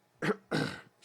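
Two short, close, throaty coughs come in quick succession from a man, the second longer and rougher, alone without talking.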